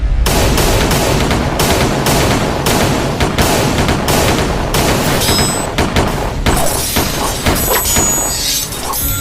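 Rapid volleys of police gunfire in an animated drama, loud and dense with sharp overlapping shots and thuds in continuous bursts, closing with a few scattered cracks.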